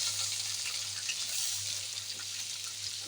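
Chopped onions sizzle steadily in hot oil in a pan, a close, even hiss of frying that holds throughout, ahead of cooking hilsa fish bhuna, with a faint low hum underneath.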